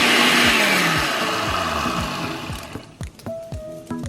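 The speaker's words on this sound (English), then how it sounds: "So to make the salsa, I already put it in the blender" A blender runs loud and steady, blending salsa made with water and salt, its motor whine then giving way to a few clunks and knocks as it stops.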